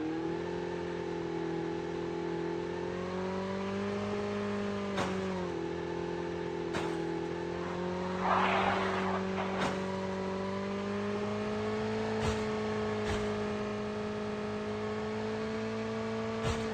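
A motorbike engine hums in Call of Duty Mobile, a steady mid-pitched drone with slight rises and dips in revs, interrupted by a few sharp clicks and a brief whooshing burst partway through.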